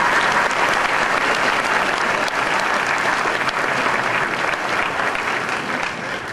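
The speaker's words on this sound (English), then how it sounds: "Let's give them a big round of applause." A commencement crowd at GWC breaks into loud, sustained applause for their professors, a thick continuous wash of many hands that eases slightly toward the end.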